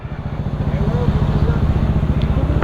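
Motorcycle engine running steadily with a fast, even throbbing pulse on a group breakfast ride to Caliraya, Laguna, loud and close throughout with a faint voice underneath.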